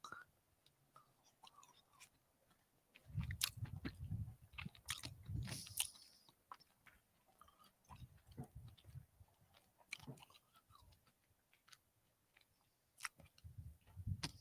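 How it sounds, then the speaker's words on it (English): Someone chews an orange right at the microphone. Quiet, wet, crunchy bites come in irregular bursts separated by near-silent pauses. "That doesn't seem terribly loud in my headphones when I chew the orange."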